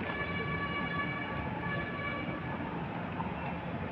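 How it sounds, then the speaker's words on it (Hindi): Lucknow metro train passing near Hanuman Setu, a loud continuous rumble with steady high whining tones throughout, close and unbroken, with no talking. "वो लखनऊ की मेट्रो जा रही"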